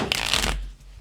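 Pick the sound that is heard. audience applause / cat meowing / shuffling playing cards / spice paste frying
shuffling playing cards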